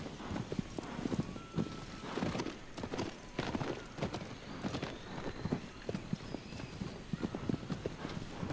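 A horse walks in the video game Shadow of the Colossus, its hooves clip-clopping in a steady, moderately close rhythm over a low ambient background, with no talking.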